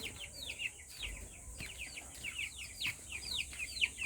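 Young Rhode Island chicks and hens, kept with African native chicks in a coop, give quick high peeping and clucking calls in a lively continuous chatter, moderately close.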